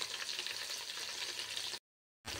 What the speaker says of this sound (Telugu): మూత పెట్టేసి పెద్ద ఆయిల్లోనే బాగా మగ్గిపోవాలి.